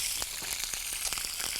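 Venison pieces sizzling in a very hot pan, a steady broadband hiss with small crackling pops throughout, close and fairly loud, with no talking.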